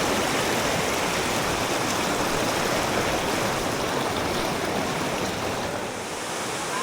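Steady broadband rush of flowing stream water, freshly risen and muddy after rain upstream, continuous and loud from start to finish with no voices.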